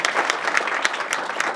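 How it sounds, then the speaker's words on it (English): Town hall audience applauding steadily, a dense, loud wash of many hands clapping together throughout, with no voices over it. "they deserve a huge round of applause"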